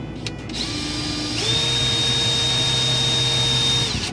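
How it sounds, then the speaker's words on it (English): A power drill bores a pilot hole through a cabinet front in a Winnebago Rialta, whirring steadily at close range, its motor pitch stepping up partway through before spinning down at the end, with no voices. "So you just want to drill through this front section, just a pilot hole."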